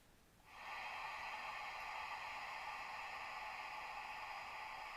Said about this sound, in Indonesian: Ini adalah suara angin.